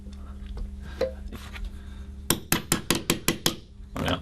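A metal hinge pin is pushed and tapped back into model railway baseboard hinges, giving a few soft knocks and then a quick run of about seven sharp, close metallic taps.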